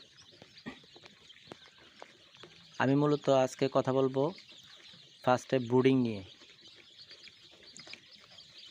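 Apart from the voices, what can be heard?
chicks chirping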